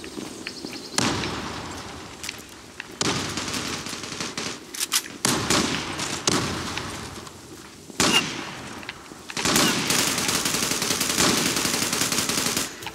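Gunfire in the online shooter Zula, harsh bursts of rapid shots in repeated volleys separated by short pauses, loud and close, with shorter single cracks between them.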